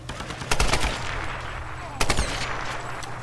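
Gunfire in the video game Tomb Raider: two short bursts of shots about a second and a half apart over a steady rumbling background.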